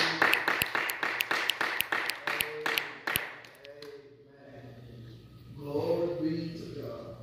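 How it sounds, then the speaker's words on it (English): Church congregation claps in unison in praise, about a dozen sharp rhythmic claps over roughly three seconds, then stops as a voice speaks and music or singing rises. "Let's give God a hand clap of praise"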